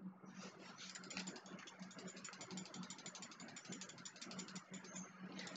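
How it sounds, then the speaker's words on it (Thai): Fast, continuous computer mouse clicking heard through a Logitech G435 wireless gaming headset microphone, a dense rattling stream of small clicks that carries on throughout, fairly quiet and close. "เดี๋ยวลองคลิกเมาส์นะ"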